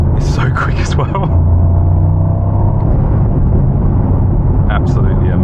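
Mercedes SL AMG V8 engine pulling hard from inside the car, a loud steady rumble that builds in pitch, with a person speaking over the start and end.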